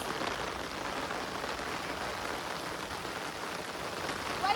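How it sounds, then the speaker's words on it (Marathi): Heavy rain pouring over a farm with paddy fields and a tin roof, a steady loud hiss of drops that stays even throughout with no voices. "बाबा एकदम जोरदार पाऊस आहे, बघू शकता तुम्ही, खतरनाक एकदम."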